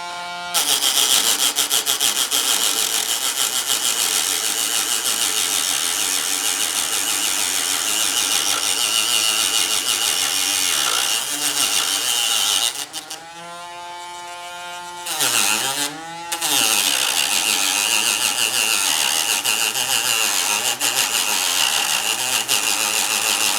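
A rotary cutting tool saws through a section of model railroad track, giving a loud continuous high whine with brief pauses and dips in pitch as the blade bites into the rail before resuming.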